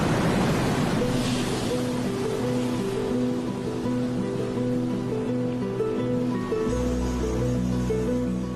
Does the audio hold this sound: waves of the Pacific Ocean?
yes